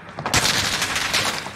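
Gunfire in Call of Duty: Warzone, a short, loud burst of rapid shots with a sharp onset, close and dense for just over a second.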